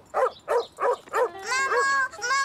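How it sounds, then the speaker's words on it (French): An angry dog at the beach gives four quick, sharp barks close by, then breaks into higher, drawn-out whining yelps. "Le chien avait l'air d'être en colère."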